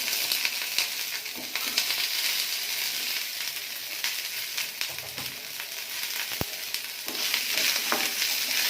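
Green chillies and two large onions frying in a pan give a steady, close sizzle throughout, with occasional scrapes and clicks of stirring and no voices.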